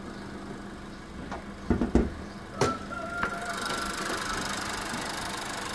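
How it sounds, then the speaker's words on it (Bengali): A 2014 Honda Vezel 1500cc push-start car idles quietly, a faint low hum broken by a few soft clunks and rattles early on before settling into a steady drone. "আসুন আমরা একটু ইঞ্জিন কন্ডিশনটা দেখে আসি, কেমন রয়েছে ইঞ্জিন কন্ডিশনটি।"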